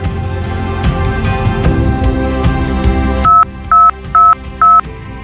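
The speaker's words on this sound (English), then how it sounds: "Key in or say the 4-digit passcode." Four telephone keypad tones enter a 4-digit passcode, short evenly spaced beeps that ring out clearly after a denser stretch of phone-line music and tones.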